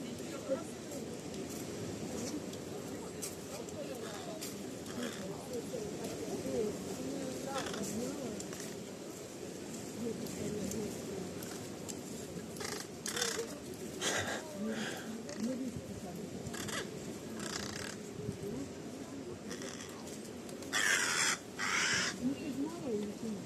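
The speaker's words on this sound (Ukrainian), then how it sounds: "Ворона бушує, ось." Crow cawing repeatedly on a busy Odesa beach on a Saturday, the harsh calls rising clearly above a steady wash of crowd chatter and distant voices.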